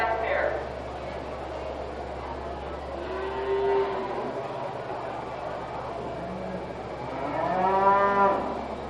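Cattle moo at a county fair beef show in Pierce County, several drawn-out lowing calls rising over a steady low hum and crowd murmur, one call near the start and a louder one toward the end.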